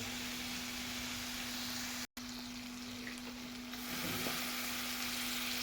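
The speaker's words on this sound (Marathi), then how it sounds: "डाळ टाकून घेतली. आता आपण हे सगळं फ्राय करून घ्यायचं." Soaked dal hisses as it fries in a pan: a steady, moderate sizzle over a low electrical hum, with one brief dropout partway through.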